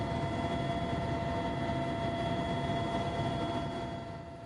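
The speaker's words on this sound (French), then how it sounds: "L'hélicoptère se pose au milieu des dunes de sable." Helicopter flying over desert sand dunes: a continuous droning engine and rotor roar with a steady whine, moderately loud, easing off slightly toward the end.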